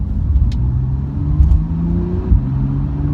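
A Porsche 911 Carrera engine pulls hard on the road, heard from inside the car: a loud, close drone whose pitch climbs and steps between gears, with occasional thumps.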